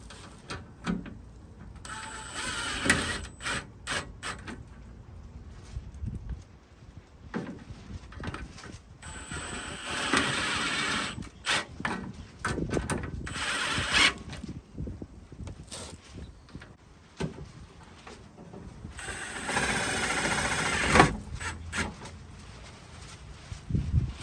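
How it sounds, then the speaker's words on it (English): Self-tapping screws are driven into a Jeep fender with a power driver, giving repeated bursts of motor whir and grinding separated by short pauses and some clanks, fairly close and loud throughout. "Now I got about 5 of these self-tapping screws. Gonna run these in."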